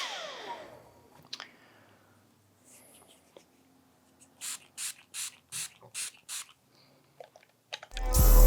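Quick bursts from a spray can hit the side of a 1994 Air Jordan 1 'Chicago' sneaker, about five or six short even hisses in a row, close and fairly loud, after quieter handling noises.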